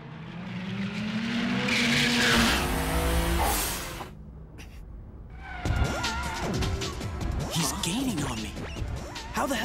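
Anime street race between a Toyota AE86 and a Nissan R32 GTR: loud engine roar and revving for about four seconds, a brief lull, then sharp squealing tire skids and renewed engine strain.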